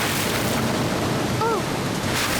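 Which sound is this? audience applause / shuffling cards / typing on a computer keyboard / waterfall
waterfall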